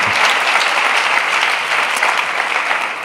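A church congregation applauds during a sermon, with loud, dense clapping from many hands that is sustained throughout and eases slightly toward the end.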